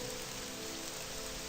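Dense, even patter of rain falling in the OpenMW Morrowind video game, a constant hiss of drops with no voices or thunder.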